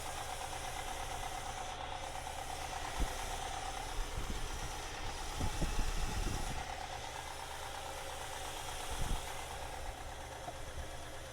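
An old Chevrolet C10 truck engine with a Q-Jet carburetor idles at a steady, fairly quiet rumble, with a faint rhythmic ticking and a few soft knocks through the run.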